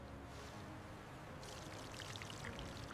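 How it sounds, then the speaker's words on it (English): Water runs and trickles out of soft gray lake-bed silt squeezed by hand, a quiet pouring stream that turns into brighter splashy dribbles halfway through, close and alone. "Squeeze this, water runs out."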